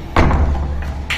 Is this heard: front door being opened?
yes